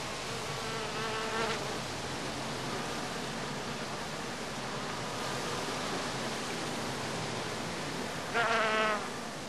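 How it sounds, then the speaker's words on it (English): Bees buzz steadily while foraging among blooming heather, Calluna vulgaris, a dense insect hum close by, with two louder passes from individual bees near the microphone. "the bees now find plenty of pollen and nectar in the blossoms of Calluna vulgaris"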